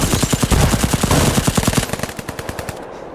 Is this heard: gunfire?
yes